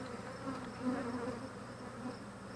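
Honeybees hum in a continuous close buzz while a Flow Hive is opened for inspection, the drone swelling slightly midway without any speech.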